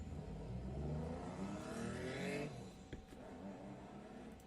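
A Subaru EG33 engine revs up and holds a loud, throaty drone, then drops back to a steady idle rumble, close by with no talking.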